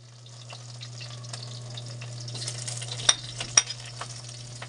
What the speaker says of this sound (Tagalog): Bigisa lang natin ng ano, bawang.